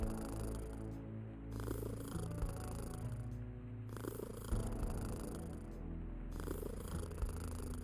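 A cat purrs close up in a steady rhythmic rumble, with breathing cycles repeating every second or two, soft and alone with no talk.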